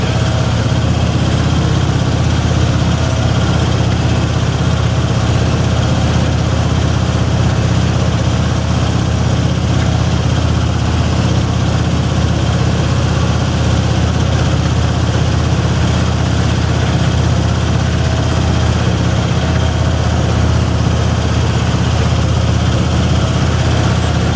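A tractor idles while ploughing a field, a steady low diesel rumble that runs unbroken and fairly loud throughout, with no voices over it.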